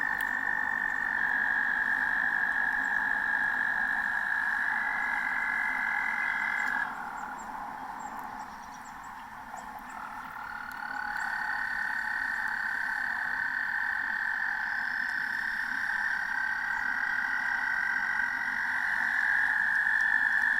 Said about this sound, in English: Let's take a listen here to these toads.